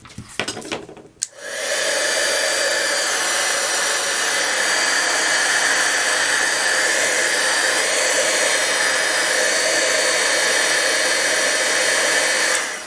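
A heat embossing tool blows continuously over a card to melt embossing powder, a loud, steady hairdryer-like whoosh that starts after a short clatter and carries on alone without a break.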